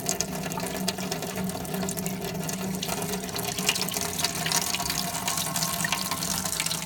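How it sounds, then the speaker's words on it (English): Water runs steadily from the taps of a homemade kids' outdoor water table tinted pink with red food coloring, a continuous splashing stream pouring into a basin, close and fairly loud throughout with no talking. "They each have their water coming out"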